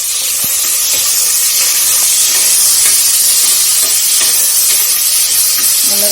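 Chopped onion frying in a pan, a loud, continuous hissing sizzle with faint stirring clicks, steady throughout and close up.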